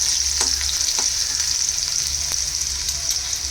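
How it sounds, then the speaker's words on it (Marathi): Crushed garlic drops into hot oil in a wok and fries with a loud, steady sizzle, close by, with occasional light stirring scrapes and no talk. "या गरम तेलामध्ये जे लसूण ठेचलेलं आहे ते टाकायचं आहे"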